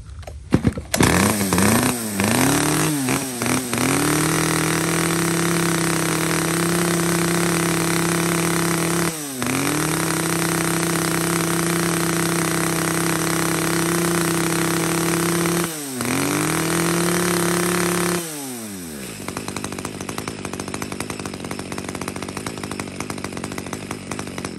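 A second-hand Japanese H8 chainsaw engine runs loud and close, settling into a steady rough idle after being revved. Brief throttle dips break in a few times before the engine winds down near the end.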